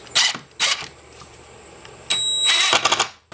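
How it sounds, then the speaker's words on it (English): An impact driver sets screws into a door lock strike plate, giving loud, close, rapid hammering bursts in several short runs separated by brief pauses, with a faint high whine from the tool between bursts. "This is an impact driver, so it's going to make some noise."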